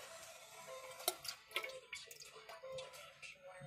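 Water splashes and trickles into a plant pot, quiet and close, with a few sharper drips and splashes scattered through the pour.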